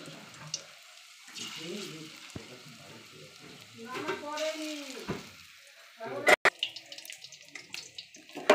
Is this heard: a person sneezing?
no